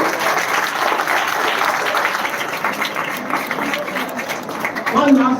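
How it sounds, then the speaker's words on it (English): Steady applause from a lecture audience fills the room, a dense wash of clapping that holds at an even level throughout, with a brief voice near the end. "Mother, please clap."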